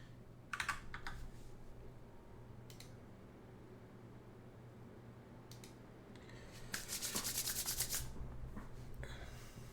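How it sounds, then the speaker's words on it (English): A computer keyboard is typed on during a live-streamed game broadcast, with scattered bursts of keystrokes, a longer flurry near the end, and a low steady hum underneath, fairly faint and close. "I'm still typing"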